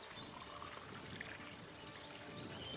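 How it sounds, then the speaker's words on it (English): Fresh spring water pours steadily into water bottles at a mountain stop on the Avalanche Gulch route of Mt. Shasta, a continuous, faint splashing trickle with no talk. "So I'm gonna fill up the water bottles"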